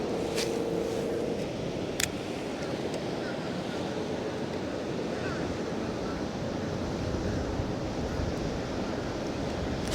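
Wind gusts over choppy water during a spring fishing outing on a bright bluebird day, a steady, dense rush of wind noise and lapping chop filling the whole stretch with a few faint knocks.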